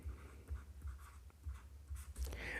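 A teacher writes a Hindi sentence during a Class 6 lesson, a steady run of close, scratchy strokes with short pauses between words.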